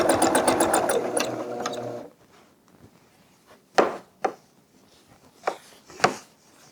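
A sewing machine hums in a rapid steady stitching run while quilting a flower design into a quilt, then stops, leaving a few soft knocks and handling sounds close by.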